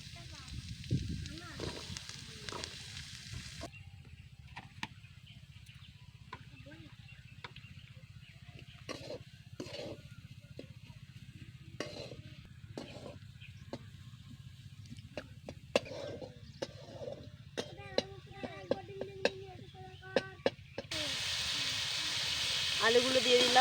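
Onions sizzle and hiss in hot oil in a pan while a snail curry is cooked, a steady fry under scattered clinks of utensils, with the hiss rising louder near the end.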